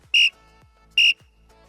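Two sharp, loud blasts of a coach's whistle during a football drill, each lasting about a quarter second and spaced roughly a second apart, with quiet in between.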